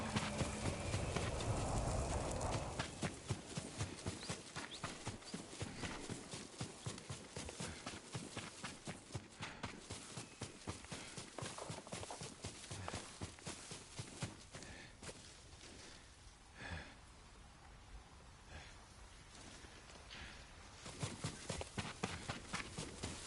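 Horse hooves clip-clop in a steady, even rhythm for a long stretch, fairly close, briefly easing off before picking back up, in the video game Ghost of Tsushima.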